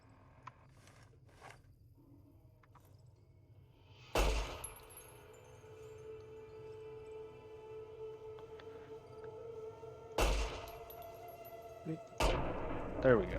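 Sharp pistol shots in the Fallout: New Vegas video game, three loud cracks spaced several seconds apart over a low ambient game hum, with someone briefly speaking.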